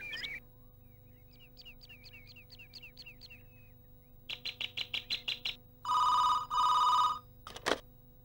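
An old-style telephone rings for an incoming call in an office scene of a Telugu comedy serial, giving short electronic trills and bursts that grow louder and then stop, with no talk over them.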